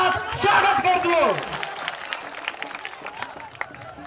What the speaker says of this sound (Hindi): तो हुनका एक बेर जोरदार ताली के साथ स्वागत कर दियो